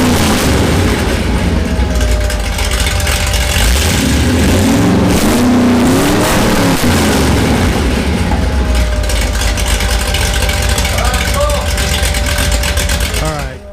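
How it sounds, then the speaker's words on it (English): A 1977 Dodge Aspen engine with open header exhaust runs loud and close, idling roughly before climbing through rising revs and dropping back, then revving again, with voices talking over the raw, blaring roar. "that's open header exhaust"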